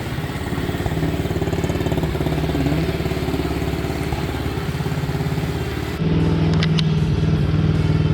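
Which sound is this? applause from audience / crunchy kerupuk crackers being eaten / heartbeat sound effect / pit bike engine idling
pit bike engine idling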